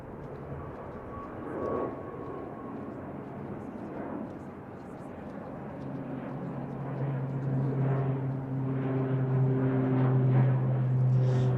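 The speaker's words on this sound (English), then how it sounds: "next to take off then is a Logan Air ATR 72-600 going to the Isle of Man" A Logan Air ATR 72-600 turboprop heads off toward the Isle of Man, its distant engine roar swelling steadily louder with a rising drone, while someone talks briefly near the start.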